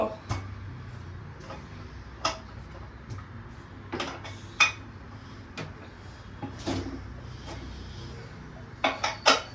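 Metal clinks and clatters from a lid set onto a donne biryani pot after ghee is added, several sharp knocks spread across the stretch with a low background hum and some speech.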